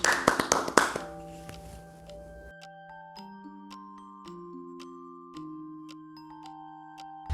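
A short round of clapping at a family retirement celebration, a quick burst of hands that gives way to a gentle synthesized melody of sustained tones with light ticking sounds.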